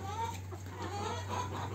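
A hen on a farm clucking softly a few times, faint and close, with low background hum and no talk.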